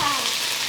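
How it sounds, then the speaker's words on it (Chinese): Garlic paste and a teaspoon of ginger paste sizzle in hot oil in a pan, a steady bright crackle heard close up with no talking. "锅中倒油，来点蒜泥、 姜泥1茶匙"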